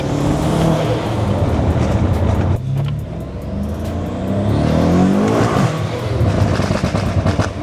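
A loud turbocharged, all-wheel-drive BMW M5 engine roars, drops off sharply as the throttle lifts, then builds and revs again, with a rumbling, crackly tone throughout.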